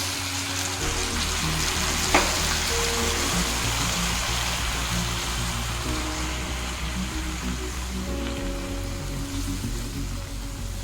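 Water poured into a hot pan of pesarattu curry with tamarind juice sets off a continuous, even sizzling hiss, with a soft tonal tune running faintly underneath and one small click early on.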